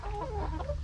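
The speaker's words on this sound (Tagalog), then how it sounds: "Ang dami palang lalaki na manok ko." Chickens, mostly young roosters, cluck softly in a short burst of nearby warbling calls.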